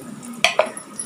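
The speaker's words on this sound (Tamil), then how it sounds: "காஞ்ச மிளகாய் ஒரு 4 போட்டுக்கோங்க, ஜீரகம், மிளகு, நான் சொன்ன இந்த பட்டை வகைங்க" Dried red chillies, cumin, pepper and cinnamon-type spices tossed into hot oil in a pan, giving a steady light sizzle with a couple of sharp spoon-against-pan clinks, close and alone.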